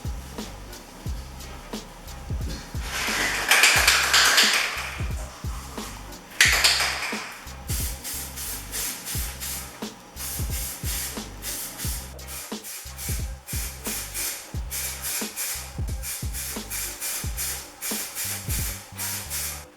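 Aerosol spray paint being applied to a microwave oven during wrapping and refinishing, heard as bursts of hissing spray over a steady background with frequent small taps and clicks.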